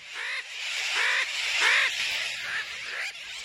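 Sooty terns call over a crowded nesting island in the Seychelles, repeated harsh, nasal cries rising and falling in quick succession against a dense background of distant colony chatter.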